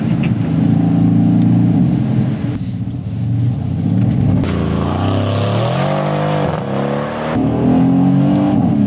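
A 2008 Mercedes C63 AMG with straight pipes accelerating hard on a wet road in the rain, a loud continuous engine roar rising through gears with a brief shift dip, heard from inside.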